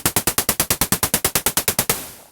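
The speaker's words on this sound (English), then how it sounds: "Here we've got pink controlled by an envelope." Pink noise shaped by an envelope on a Future Retro Vectra synthesizer, about fifteen identical sharp-attack, fast-decay noise bursts fired in rapid even rhythm, then a final longer burst fading out, loud and alone.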